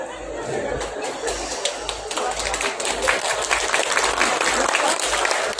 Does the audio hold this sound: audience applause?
yes